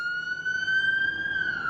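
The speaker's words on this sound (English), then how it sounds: "Wait a minute, a siren." A Forest Service vehicle siren wails outdoors near Weaverville, one steady rising-and-falling tone that holds loud and clear across the moment, with no voices over it.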